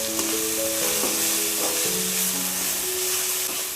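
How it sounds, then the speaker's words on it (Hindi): Spice masala for potato dum biryani sizzles steadily in a pan while being stirred, with scraping spoon sounds and faint tonal clinks over a constant close frying hiss, no talking. "अच्छे से मिक्स कर देते हैं।"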